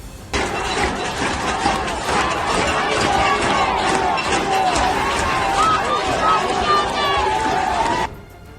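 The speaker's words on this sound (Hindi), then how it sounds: "तेहरान में भड़के हुए लोगों ने एक रास्ते के बीचों बीच आग लगा दी और सरकार के खिलाफ आवाज बुलंद की।" A protest crowd in a Tehran street shouts against the government, a loud, dense mass of yelling and chanting voices that continues unbroken for about eight seconds before cutting off.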